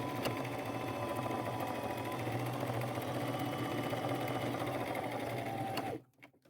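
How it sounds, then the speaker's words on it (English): A sewing machine stitches a guideline along a curved pant hem for flared bell bottoms, whirring steadily and close for about six seconds before stopping abruptly. "I like to line this edge up with the side of the presser foot and make just a guideline."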